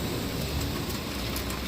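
Rain falling outdoors makes a dense, steady hiss that is loud and continuous across the short stretch, with no voices.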